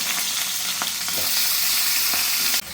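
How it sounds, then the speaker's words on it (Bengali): A fish head fries in the little oil left from frying fish, producing a dense, loud, even sizzle with faint stirring taps that ends abruptly. "ওই তেলটাতে আমি মাছের মাথাটা ভেজে নেব"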